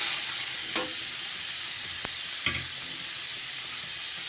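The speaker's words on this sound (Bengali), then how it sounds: "আমার পেঁয়াজ রসুনগুলো তো একদম লাল লাল করে ভাজা হয়ে গিয়েছে এখন আমি এর মধ্যে শাকগুলোকে দিয়ে দিচ্ছি" Leafy greens (kolai shak) dropped into hot oil with deep-fried onion and garlic in a pan, giving a steady loud sizzle with a few sharp stirring scrapes and clatters, no voices.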